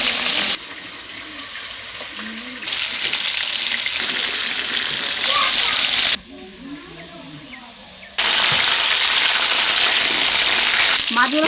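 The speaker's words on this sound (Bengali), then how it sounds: "মাছগুলো খুদে ভাতের সাথে খাবে তো, ওই জন্য আমি কড়া করে ভেজে নিচ্ছি, লাল লাল করে ভেজে নিচ্ছি।" Fish pieces deep-frying in hot oil in a home kitchen, a loud close sizzle and crackle that rises and drops in level as the pieces are turned, with brief quieter gaps.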